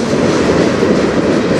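A CN freight train rolling on the rails, a loud continuous close rumble and roar of wheels and cars with no break over its short length.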